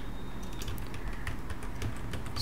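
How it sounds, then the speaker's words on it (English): Quick, light keystrokes on a computer keyboard entering a terminal command on an Arch Linux machine, close and steady over a low background hum, with no voices. "So just type the command sudo"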